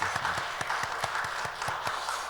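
A Korean church congregation at an intercessory prayer school gathering claps together in a quick, even rhythm, the claps ringing out over a background hum.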